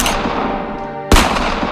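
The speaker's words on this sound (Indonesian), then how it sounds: "bunyi tembakan Brimob pun terdengar" Gunshots fired by police during a train hijacking, a burst of dense crackling fire followed by one loud, sharp shot that cuts in abruptly near the end.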